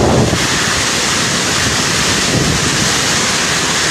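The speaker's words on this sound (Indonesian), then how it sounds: "Oleh karena tiupan angin yang begitu dahsyat" Violent wind storm tearing across coconut palms in East Nusa Tenggara, a loud, continuous roar of gusts battering the microphone with broad rushing noise throughout, no voices.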